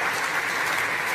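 Applause from a conference keynote audience fills a hall in a dense, steady wash of clapping, heard briefly and without voices.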